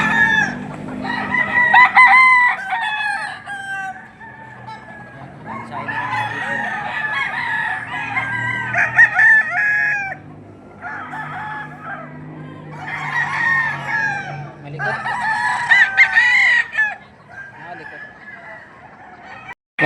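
Roosters crow repeatedly and chickens cluck at a morning chicken market in Padre Garcia, Batangas, the calls loud and close, overlapping in waves with faint background chatter.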